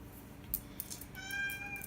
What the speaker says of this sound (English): My cat's talking to me.